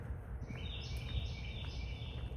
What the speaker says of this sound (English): Is that a bird? Like, is that a real live bird? It sounds like it's fake, but that could be a real bird.